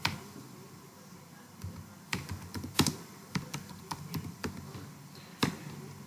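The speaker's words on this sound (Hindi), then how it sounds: "यहाँ पे हम जो है वो लिखेंगे इस्लामाबाद पुलिस।" Typing on a computer keyboard into a search bar, a run of sharp, irregular key clicks with short pauses between bursts, close and fairly quiet.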